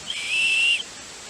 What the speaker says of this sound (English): Here's a little center piece here that's got a emergency whistle.